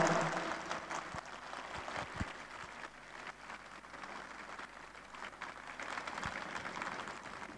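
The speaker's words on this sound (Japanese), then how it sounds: "改めて大きな拍手をお願いいたします。" An audience at the Tokyo 2020 Olympic torch relay Grand Start ceremony in Fukushima claps steadily in a broad, moderately distant wave of applause that swells and eases slightly throughout.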